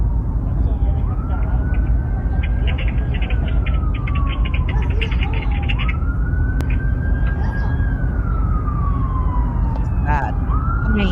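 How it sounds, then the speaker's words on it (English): Police sirens wail in repeated rising and falling sweeps over a dense street background, with birds chirping faintly, approaching and sounding steadily loud throughout. "I can hear the sirens"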